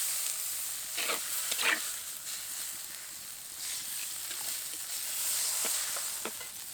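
Water goes into a pan of spiced potato curry, setting off a steady hiss and sizzle with a few brief stirring scrapes, fairly close and with no talking.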